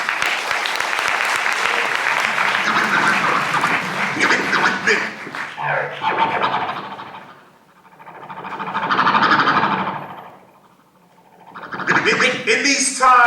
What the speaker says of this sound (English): Big hand of applause, please. DJ Razor Ramon.